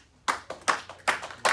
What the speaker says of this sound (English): I want y'all to clap your hands.